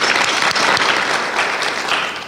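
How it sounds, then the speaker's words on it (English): Audience applause for a student at an award ceremony, a loud dense wash of many hands clapping continuously and close by. "Yes, give her a round of applause."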